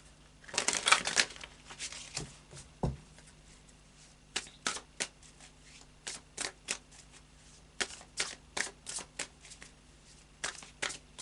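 Tarot cards are shuffled and laid out. A burst of riffling comes first, then a steady run of short, crisp snaps and slaps as individual cards are placed on a table, close and fairly quiet, with no talking.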